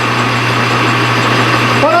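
A lathe turns down the outside diameter of cold roll steel stock in a shop, a steady loud machine hum with a strong low drone and broad cutting noise throughout, holding an even level with no pauses.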